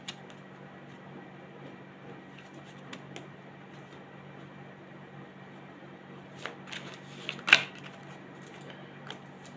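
Tarot cards are shuffled softly and steadily at close range, a quiet papery riffle with a few louder flicks and taps near the end, under faint room hiss.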